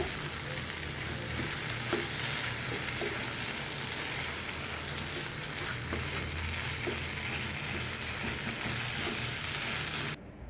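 Taro leaves sizzling and frying in a pan while being stirred, a steady close crackle with occasional scraping taps of the spatula, continuous throughout before cutting off at the end.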